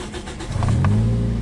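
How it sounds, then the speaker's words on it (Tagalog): A Toyota Vios engine cranks briefly, then catches and settles into a steady, close mid-pitched idle hum, heard alone. "Dapat pag i-start ko ito, stable na itong idle niya at matining na yung andar ng makina"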